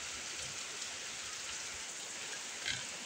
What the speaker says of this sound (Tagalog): Lakas po kasi ng ulan.